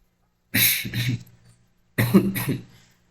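Two close, harsh coughing fits separated by a short silence, each a cluster of rough bursts.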